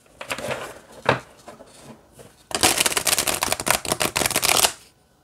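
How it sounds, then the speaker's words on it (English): A few soft tarot card-handling sounds, then a brisk riffle shuffle rattles for about two seconds, close and crisp. "All right, let's see how it shuffles."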